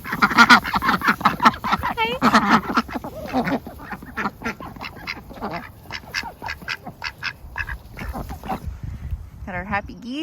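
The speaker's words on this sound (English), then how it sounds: "Got our happy geese." Geese on a flower farm honk and cackle in a busy, overlapping chorus, loud and close at first and then in sparser calls, while a person talks over them.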